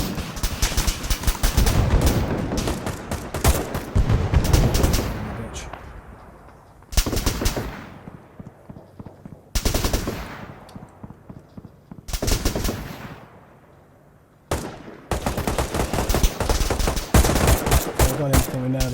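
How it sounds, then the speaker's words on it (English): Automatic gunfire in Arma 3 with the JSRS Dragonfyre sound mod, shooting from across another building: dense, loud bursts and rattling volleys broken by short pauses, with echoing tails fading between them. "They might be shooting across from another building."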